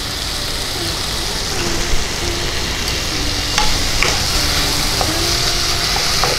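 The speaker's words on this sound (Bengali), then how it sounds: "ঢাকনা খুলে ভালো করে আবার একটু নাড়িয়ে চাড়িয়ে দিচ্ছি।" Chicken keema and chana dal sizzle steadily in a pan while a spoon stirs through it, the loud continuous frying broken by scraping strokes and light clinks, with no voices.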